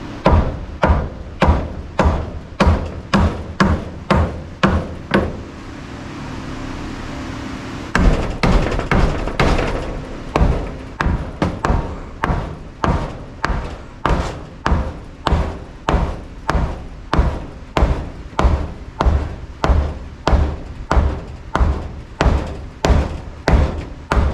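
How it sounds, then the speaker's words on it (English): Steady, loud hammer blows ring out in a regular rhythm during an emergency RV repair, dozens of sharp metallic strikes with a short pause partway through before the pounding resumes. "In the infamous words of Crocodile Dundee, that's not a hammer, that's a hammer."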